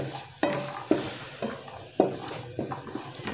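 About 100 grams of peas stir-fried in a pan, a low sizzle under repeated clanking scrapes of a spatula against the metal, about five distinct strokes at uneven intervals.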